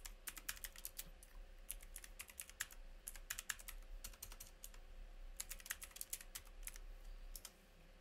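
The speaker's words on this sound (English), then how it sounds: "So I'm just going to type in" Fingers type on a computer keyboard in quick, irregular bursts of soft clicks separated by short pauses, faint and close, with a low steady hum underneath.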